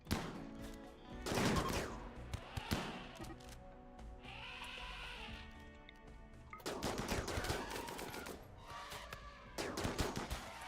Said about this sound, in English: guys, stop shooting at my animals